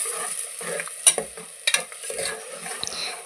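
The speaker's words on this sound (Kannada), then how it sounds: "ಇವಾಗ ರುಬ್ಬಿರೋಂಥ ಮಸಾಲೆನೂ ಇದಕ್ಕೆ ಸೇರಿಸ್ಕೊತಿದ್ದೀನಿ. ಸೇರಿಸ್ಕೊಂಡು ಚೆನ್ನಾಗಿ ಮಿಕ್ಸ್ ಮಾಡ್ಕೊತೀನಿ." Ground masala being stirred into hot oil in a pan for veg pulao gives a faint, steady sizzle broken by a few sharp scrapes and clinks of the spoon, with no talking.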